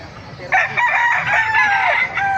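A rooster crows loudly and close by at the Bocaue tyangge market, a single drawn-out call rising and trailing off, with other fowl clucking faintly underneath.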